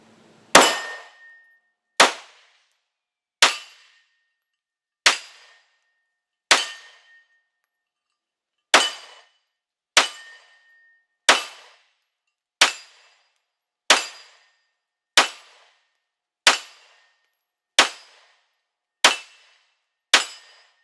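Pistol test firing with a Polymer 80 frame and a Primary Machine Stealth compensator: roughly fifteen loud, sharp shots spaced evenly about a second and a half apart, each with a brief metallic ring and no talk between them.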